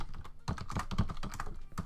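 Rapid typing on a computer keyboard, a quick irregular patter of clicks close up, with no talk over it.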